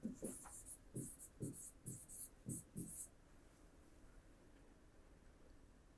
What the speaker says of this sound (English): So you can write exterior angle